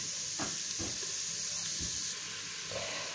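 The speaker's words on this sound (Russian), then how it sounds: "Доводим зажарку до золотистого цвета." Carrots frying in a slow cooker for pea soup, giving a steady hiss and sizzle with a few soft stirring knocks, close and continuous throughout.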